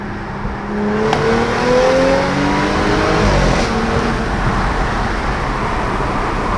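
A 2018 Audi A7 with a resonator-delete exhaust revs up under acceleration from inside the cabin, about 50 mph at 4,000 RPM, its pitch rising steadily with a loud, raspy exhaust drone over road noise.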